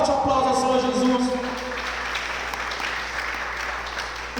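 A church congregation claps together in response to a call, a loud, dense wash of applause that begins amid a sustained voice and music, then carries on steadily before thinning slightly.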